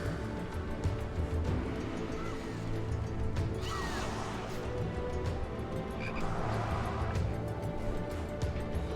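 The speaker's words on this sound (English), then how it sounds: "Nice frog there." A frog croaks in the Final Fantasy XIV video game, with repeated throaty calls over a dense, steady bed of game ambience and music.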